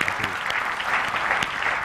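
Studio audience applauding for a guest on an Indonesian talk show about graffiti, a brief burst of dense clapping with a few sharper individual claps standing out, fairly close and loud.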